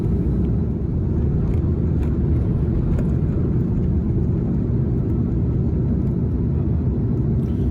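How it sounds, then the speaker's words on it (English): A passenger airplane takes off with a steady, loud, powerful rumble of engine noise that holds constant throughout, with no voices. "Takeoff was smooth and powerful, probably due to the light load."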